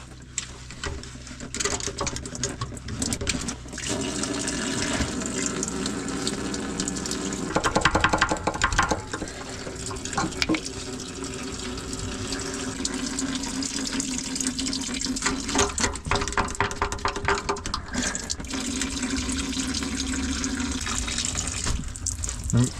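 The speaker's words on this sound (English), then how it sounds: "I poured 20 liters in and the flow of fuel even slowed down" About 20 liters of fuel are poured into a tank, a continuous gurgling, splashing flow that stays steady and fairly close for over twenty seconds, with a louder surge partway through and a faint murmur of voices in the background.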